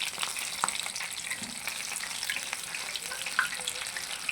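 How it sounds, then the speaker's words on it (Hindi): Coated popcorn chicken pieces fry in hot oil with a steady, close crackling sizzle and scattered small pops throughout, with no voices. "इसको फ्राई करना शुरू कर देते हैं"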